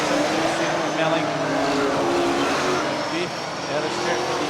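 Saloon cars racing on a dirt speedway, a continuous roar of several engines circulating with slight rises and falls, under ongoing commentary.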